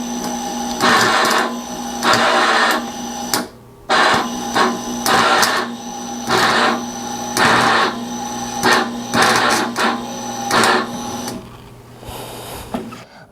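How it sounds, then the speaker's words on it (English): An arc welder runs off an EcoFlow R600 portable power station, giving a loud, steady buzzing crackle in repeated bursts with brief pauses between them and no talking. "So let's give it a go on the welder."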